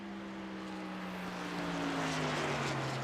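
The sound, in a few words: race trucks at Charlotte Motor Speedway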